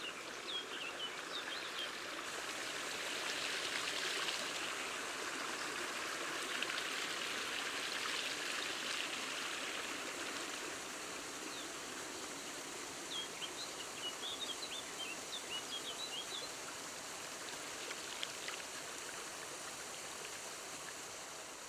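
Rushing water from an upland stream and a curtain of falling water where a dipper nests in northern Spain, a steady broadband roar throughout with faint bird calls scattered above it.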